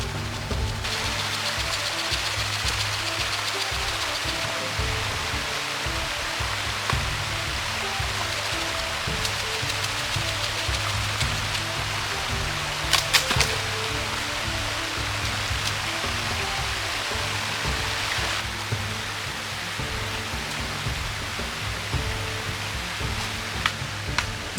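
Heavy rain in a forest beside a river, a dense steady hiss of falling water that carries on unbroken, with a few sharper brief patters partway through and no voices.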